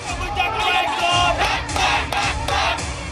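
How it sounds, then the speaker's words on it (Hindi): Large crowd of protesting students filling a Dhaka street, a dense roar of many voices with rhythmic surges of shouting and chanting, steady and moderately distant. "ढाका में हजारों छात्रों की भीड़ सड़क पर है।"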